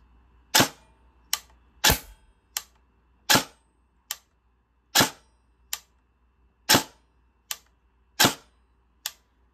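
About a dozen sharp, snappy shots from an FN SCAR airsoft gun firing at about 360 FPS over a chronograph, one at a time at irregular intervals, each a crisp crack with a short tail, near and clear.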